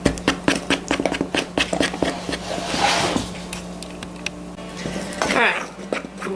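Peanut butter fudge stirred in a pan, a spoon scraping and knocking in a steady rhythm of close, soft clicks and scrapes over a low hum, with a brief voice partway through.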